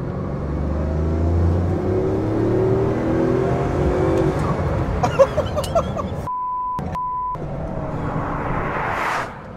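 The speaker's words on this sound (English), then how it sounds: "The way this car accelerates is absolutely mind-blowing." A powerful high-torque car accelerates hard, a loud rising engine roar that builds steadily for several seconds and is followed by a few clicks and a brief tone.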